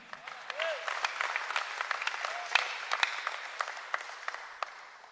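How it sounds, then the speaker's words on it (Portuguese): Church congregation applauding during an end-times conference sermon, a steady patter of many hands clapping at moderate distance for several seconds, with a few brief voice fragments mixed in. "Se você quiser aplaudir essa verdade,"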